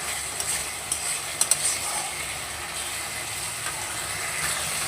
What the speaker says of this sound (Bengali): ভালো করে আবারও মিশিয়ে নেব মশলাটার সাথে হলুদটাকে